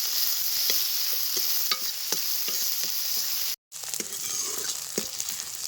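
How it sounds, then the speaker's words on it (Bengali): Chopped onion, crushed garlic and green chilli fry in oil for a village-style red lentil dal, with a loud, continuous sizzle and rhythmic spatula scrapes and taps throughout, cut by a brief dropout. "এই সব কিছু পেঁয়াজ ভালো করে ভাজা ভাজা করে নেব"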